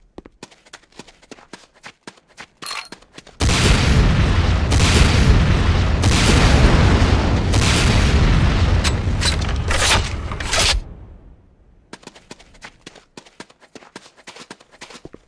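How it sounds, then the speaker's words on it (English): Sustained roar of an automatic rocket launcher firing at targets in Command & Conquer: Renegade, loud and continuous for several seconds, bracketed by quick, light footstep-like ticks before and after. "Next up is the Sakuze 66mm Type R-12 Locust Automatic Rocket Launcher"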